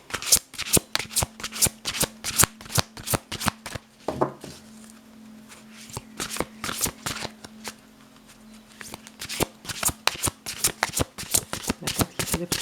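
Tarot cards being shuffled by hand in quick, crisp riffling bursts, close and loud, with a short pause partway through before the shuffling resumes.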